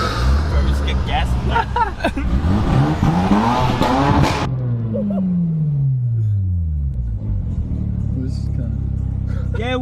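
Mazda RX7 rotary engine revving hard and accelerating on a busy Melbourne street, a loud roaring climb that drops off into a fading pass-by, with people talking and cheering over it.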